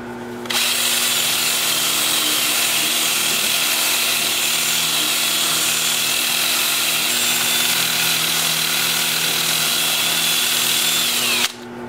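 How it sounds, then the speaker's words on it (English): Small 2-inch power sander with an 80 grit disc sands turned pepperwood on a lathe, a loud continuous high whine starting abruptly and running steadily before stopping near the end, with no talking. "I'll switch to an 80 grit disc on my 2-inch sander, and I'll sand all the turn parts"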